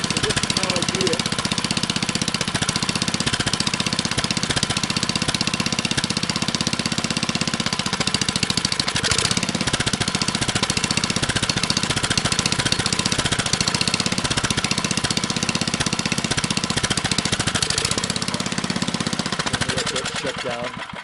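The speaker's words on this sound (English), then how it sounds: "That's a great running engine." A berry picking machine's small engine runs steadily at idle, loud and close, with a constant mechanical chatter that stays even for the whole stretch before tapering at the end.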